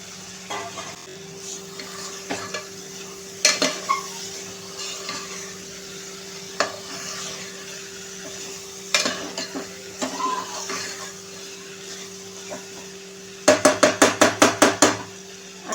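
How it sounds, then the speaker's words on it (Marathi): Bottle gourd and soaked chana dal stirred in a pan, with scattered soft scrapes and clinks of a spoon against metal, a few sharper knocks, then a quick run of rapid taps near the end over a steady faint hum. "आता हे मिक्स करूया आणि ह्याच्यामध्ये आपण चण्याची भिजलेली डाळ देखील ॲड करायची आहे."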